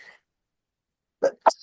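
Two quick sneezes burst out close by at a legislative committee meeting, the first a short puff and the second sharper, after a brief quiet.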